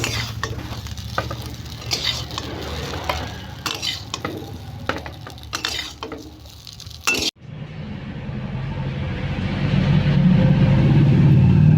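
Cauliflower 65 fries in oil with a continuous close sizzle. Metal spoon scrapes and clinks sound during the first half, then the frying alone swells louder toward the end.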